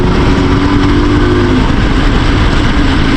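A modified IZh Jupiter 4 motorcycle ridden in fourth gear on a winter ride, with a loud, close, continuous engine drone and a steady buzzing rumble that never lets up.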